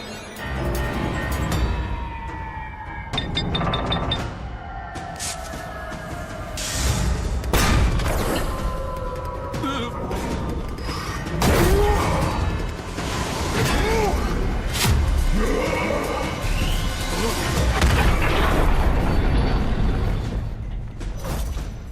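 Port-side ship cannons firing in an animated adventure series, heavy booms and blasts recurring across the stretch, mixed with creaking timber, clanking mechanisms and cracking impacts in a dense, loud battle scene.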